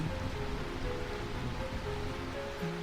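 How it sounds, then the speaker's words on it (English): Steady rain falls in Burmecia in Final Fantasy IX, a continuous hiss of downpour with a low rumble and faint tonal game music beneath, even and unbroken throughout. "I find this rain quite pleasant."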